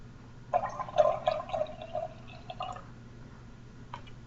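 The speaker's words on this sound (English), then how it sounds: "Then I'm going to pour the water into the jar of oil." Water poured into a jar of vegetable oil, a close burst of gurgling, dripping splashes lasting a couple of seconds, then a brief faint trickle.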